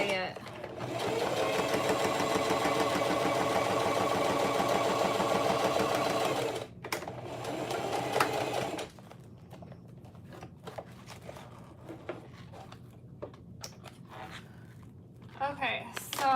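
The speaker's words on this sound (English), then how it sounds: "I've sewn the edges of the gusset down 1 inch" A sewing machine runs in a long, steady burst as it stitches the edges of a gusset on a clear TPU tote, then stops. Shorter handling noises and brief starts follow, with a voice speaking faintly in the background.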